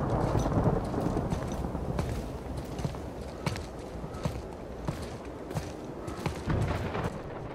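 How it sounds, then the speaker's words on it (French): Thunderstorm in the God of War video game, with scattered cracks and rumbling booms over a steady low wash of rain and ambience and no talking. "De l'orage comme ça, c'est très bizarre."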